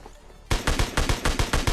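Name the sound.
gunfire in the video game PUBG Lite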